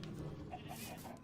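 Chickens clucking in the Minecraft video game, a few short soft clucks repeating at a moderate distance over a steady low background hum.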